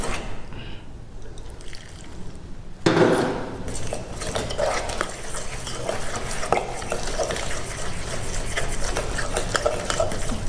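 Curd being stirred into veg omelette batter with a spoon in a bowl, a steady wet scraping and swirling that turns louder and busier after a few seconds, with light clinks throughout.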